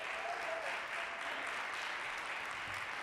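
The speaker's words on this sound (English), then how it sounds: "Give me a round of applause if you're having a good time tonight." An audience applauds at the finals of a music competition. The steady, dense clapping from a full hall holds at an even level for about three seconds, with no voices over it.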